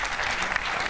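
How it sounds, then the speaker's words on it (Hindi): An audience at a Hindi comedy poetry recital breaks into a brief, dense burst of applause, many hands clapping together at a steady level throughout. "इस बात पे ताली आनी चाहिए थी आपकी।"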